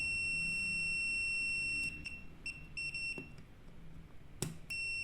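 A multimeter on its continuity setting gives short electronic beeps while the display of a faulty microwave is tested, quiet chirps over a low steady hum.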